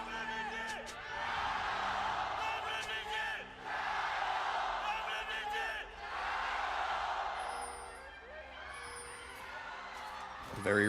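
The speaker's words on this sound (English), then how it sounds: "Very riled up crowd for game number 1." A large esports arena crowd at a League of Legends LPL playoff match cheers and roars in waves, swelling loudly several times with whoops and yells echoing through the big arena.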